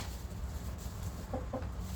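Hens at a backyard flock give a couple of soft, low clucks late in the moment, faint and close over a steady murmur of farmyard background.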